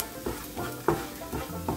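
Spice powders stirred in a hot pan over a low flame while making potato 65, a soft scraping stir repeated every half second with a faint sizzle underneath, close and quiet, no talking.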